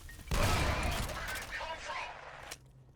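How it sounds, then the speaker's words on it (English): Dense, sustained autocannon fire in the shooter F.E.A.R., a loud roaring burst lasting over two seconds that cuts off abruptly, with a brief tail of echo afterward. "what they aren't expecting is for me to have an autocannon, essentially"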